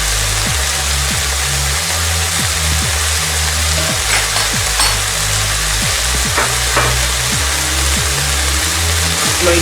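Chicken browning in a hot pan for a Peruvian tallarín saltado, a steady loud sizzle with repeated stirring clatter and a low rumble underneath throughout.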